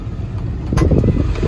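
A 2001 Ford F-550 utility service truck with a 7.3 Powerstroke diesel, nearly 20 years old, drives down the road, its engine a steady low drone with a brief louder swell midway, heard from inside the cab.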